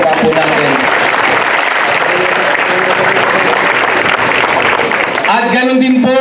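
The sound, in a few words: audience applause at a Day of Valor ceremony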